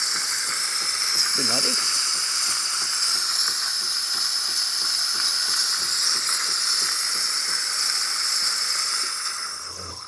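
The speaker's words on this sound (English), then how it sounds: "the steamer is having a nice pressure, working the way it's supposed to" Steady, loud hiss from the steam wand of a serviced Saeco Intelia espresso machine, continuous and strong, fading near the end, with a brief spoken greeting early on.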